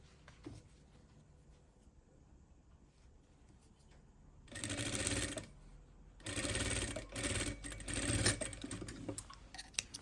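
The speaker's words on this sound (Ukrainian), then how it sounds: "І починаємо пришивати від самого низу, от як на лапку стає, так і пришиваємо." A sewing machine stitches a replacement zipper into jeans, starting from the bottom. Two loud close bursts of rapid stitching follow a quiet stretch, then shorter runs and scattered small clicks.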